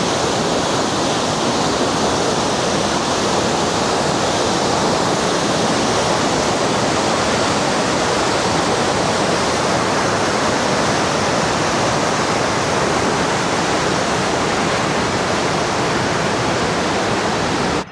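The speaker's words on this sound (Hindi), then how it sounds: "काफ़ी तेज़ पानी है, बहुत तेज़ पानी है।" A fast mountain river in Swat, on the road from Kalam to Mahodand Lake, roars loud and close. The broadband rush of churning water holds unbroken for the whole stretch, with no talk over it.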